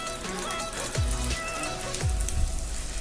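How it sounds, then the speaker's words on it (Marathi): Water drips inside the rock-cut Gandhar Pale caves near Mahad, a quiet, echoing space, with two distinct hollow plops about a second apart over a steady trickling background. "पाणी अजूनही चालू आहे"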